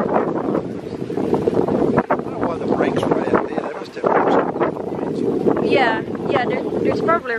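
Wind blows steadily across a beach lined with rocks by the water, a constant rumbling buffet on the microphone. A voice talks over it throughout.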